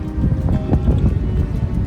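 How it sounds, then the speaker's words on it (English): Steady wind gusting across open ground on Maafushi Island, Kaafu Atoll, in the Maldives, a loud, continuous rush with soft buffeting and no voices. "It's amazing wind"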